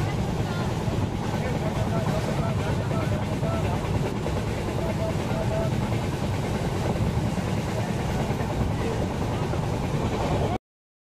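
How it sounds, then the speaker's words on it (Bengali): A passenger train ride sounds as a steady loud rumble and rattle of carriages on the rails, continuous throughout with no clear talk. "ফাইনালি চলে আসলো ট্রেন। তো আমরা উঠে পড়লাম ট্রেনে।"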